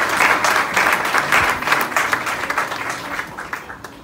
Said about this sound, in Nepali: पहिला ताली बजाएर धन्यवाद दिनु